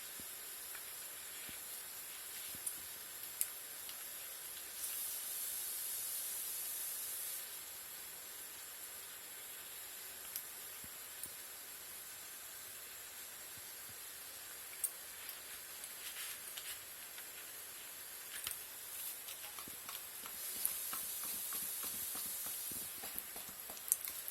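Black mustard seeds and asafoetida powder sizzle in a pan for a rice rava dish, a steady quiet hiss with occasional small pops and crackles throughout, no talking.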